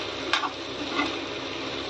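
Red chillies frying in a pan for a fish curry, a steady close sizzle with a couple of brief stirring scrapes, no talking.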